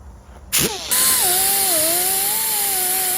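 A power tool spins up to remove bolts from a snapped auger, starting with a short burst and then settling into a loud, steady whine that wavers slightly in pitch under load.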